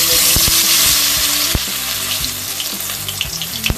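Marinated fish fries in hot oil with a loud, continuous sizzle and crackle. Occasional sharp pops and clinks of a utensil break through, and there is no talking.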